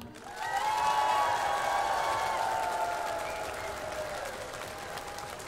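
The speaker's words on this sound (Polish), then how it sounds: "Gromkie oklaski!" A concert audience in a sports hall applauds, a dense wash of clapping that swells quickly, holds, then slowly fades, with no speech over it.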